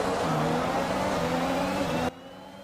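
Race cars in the F1 2021 video game accelerate hard off the grid at the race start, a loud rising engine whine that cuts off abruptly near the end.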